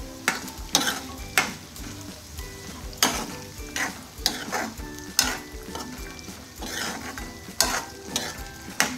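Potatoes and peas frying in a pan for kanda poha while being stirred, a steady sizzle under repeated scraping clatter of a spoon against the pan, close and fairly loud.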